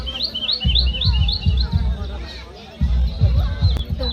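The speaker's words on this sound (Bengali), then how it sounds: "এই পুজো প্যান্ডেলে পাখিদের যে কিচিমিচি আওয়াজটা দিয়েছিল" Recorded birdsong plays at a Durga Puja pandal, with a run of quick, bright chirps near the start over a busy festive background of crowd babble and thumping low noise.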